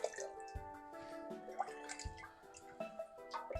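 Hot rich broth poured into a wide-mouth bottle without a funnel, with soft dripping and splashing liquid sounds and a few light clinks, quiet and close.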